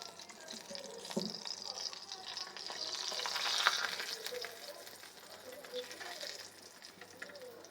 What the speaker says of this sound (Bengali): তেল দিয়ে ভেজে নেব